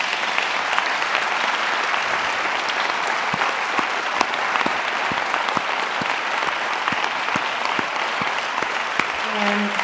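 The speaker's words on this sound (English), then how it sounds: "How about a warm round of applause for our panel?" An audience at a lecture gives the panel a warm round of applause, loud sustained clapping filling the room throughout, with a faint voice beginning near the end.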